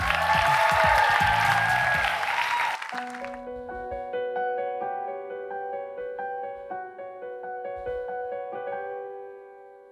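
A concert audience claps loudly for about three seconds at the Premiera final stage show, then the applause cuts off and a clear, melodic instrumental passage plays on alone.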